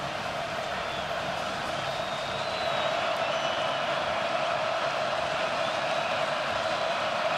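A steady roar from the crowd at a college football stadium during a Baylor vs. Iowa State game, a dense continuous wash of cheering that swells slightly partway through, with a commentator talking over it.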